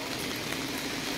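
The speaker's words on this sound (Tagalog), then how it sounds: "Maulan na gabi." Steady rain falls at night on a city street in Seoul, a dense, even hiss of drops on pavement and surfaces continuing without a break, close and moderately quiet, with no voices.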